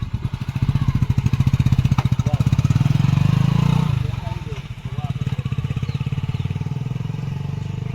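A motorcycle engine putters rhythmically, dips briefly as it is started again, then settles into a steady close idle with faint voices in the background.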